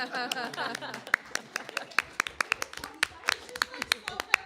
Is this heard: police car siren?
no